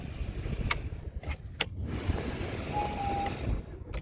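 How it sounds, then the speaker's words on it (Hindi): A Maruti Swift VXI 2024 three-cylinder car engine starts and idles with a shaking, low rumble, broken by a few sharp clicks and a short steady chime inside the cabin. "स्टार्ट करती पूरी गाड़ी कांपती है"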